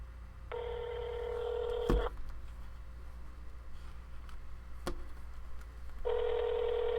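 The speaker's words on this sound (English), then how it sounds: "Can you guys hear the phone ringing?" Telephone touch-tone dialing: two long, loud steady tones, one near the start and another at the end, with a single sharp click between them.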